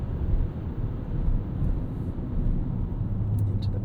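2026 Jeep Cherokee turbo hybrid cornering hard, a low steady rumble of engine and road noise from inside the cabin, moderately loud and continuous.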